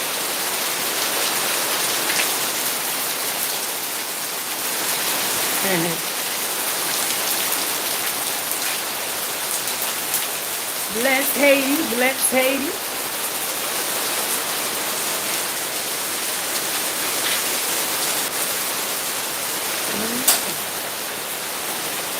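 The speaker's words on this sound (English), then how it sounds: "Yes, it's raining. You can't see it, but you definitely can hear it." Steady rain falls outside as a continuous close hiss, with a voice speaking briefly a few times over it.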